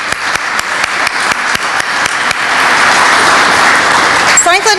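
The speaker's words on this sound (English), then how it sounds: "I just ask you to give them a round of applause for leading this process so far." A breakfast meeting with mayors, January 2012, breaks into applause: scattered claps swell into dense, loud, sustained clapping from a large crowd, with a brief whistle near the end.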